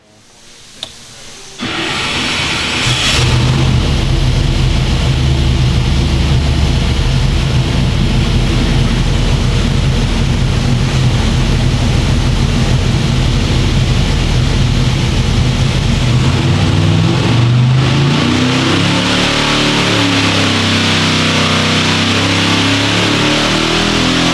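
A 903 cubic inch ProCharged engine makes a steady, very loud, close roar as it is held through a 4,000–5,000 rpm pull, then its pitch drops near the end as the revs fall.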